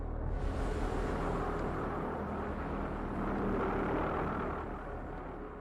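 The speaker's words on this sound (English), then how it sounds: "The distinctive sound of the V1's pulse jet engine as it roars over London" A V1 flying bomb's pulse jet engine roars overhead, a loud, continuous rumbling drone that holds steady and then fades slightly toward the end, with no voices.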